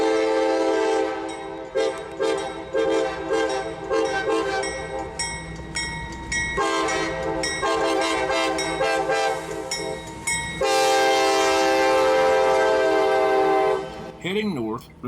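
CSX locomotive number 128, running light with no cars and heading north on the CE&D Subdivision, rumbles loudly and close, its horn blaring in long sustained blasts over the engine drone before fading near the end.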